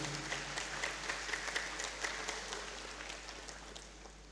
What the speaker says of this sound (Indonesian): Tepuk tangan untuk Prof. Arid.